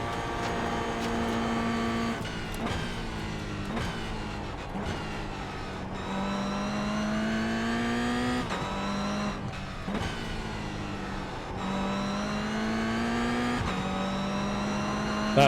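A Mazda MX-5 on track at Oulton Park revs and accelerates through repeated gear changes, its engine note rising steadily and dropping sharply at each shift, loud and close throughout.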